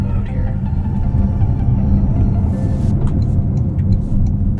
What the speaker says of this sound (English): I actually want to see how this performs, how it accelerates in EV mode.